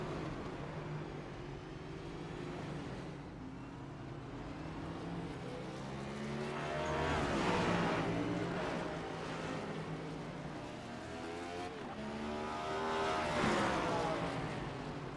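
Race cars in a sim racing video game sweep past after a crash, their engines rising and falling in long whooshing surges that swell around the middle and again near the end, over a steady background roar.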